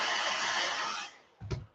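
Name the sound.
hair dryer blowing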